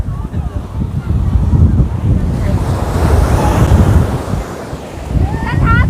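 Sea surf rolls onto Aksa Beach at Madh Island in Mumbai, a continuous loud wash of waves mixed with heavy wind buffeting, with someone talking briefly near the start and end.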